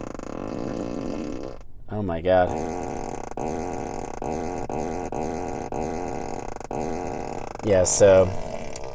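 A Tesla Model 3's toy box app plays a seat fart sound effect, two short rasping blasts a few seconds apart, with people talking and reacting between them.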